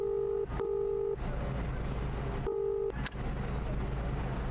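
Ringing tone of a phone call in the horror video game House Hunted 2: two long steady electronic tones, each about half a second to a second, with a short gap between them, then a pause and one more tone over a low rumbling game ambience.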